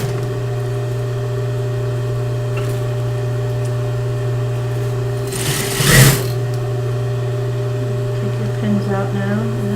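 A sewing machine stitches fabric around a curve with the needle down. It gives a steady, close mechanical whir throughout, with a short rustling burst of handling noise partway through.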